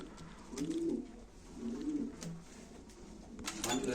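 Pigeons cooing at a live pigeon auction, with several close, soft rolling coos repeating in bursts, and faint chatter in the background.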